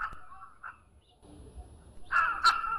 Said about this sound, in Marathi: लाल साकोत्री या आवाजाच्या प्रकाराला रायझिंग कॉल असं म्हणतात